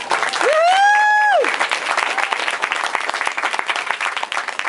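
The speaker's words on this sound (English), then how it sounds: "I'd like to give her a round of applause." An audience at a book launch in a Barnes & Noble bookstore breaks into loud, sustained applause, opened by a rising whoop or whistle from the crowd before the clapping carries on evenly.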